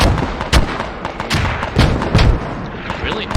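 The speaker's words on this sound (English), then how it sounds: "really nice mortars" Mortar fire in a competitive multiplayer video game: repeated heavy booms and thuds land irregularly over a dense, noisy battlefield din, loud and close throughout.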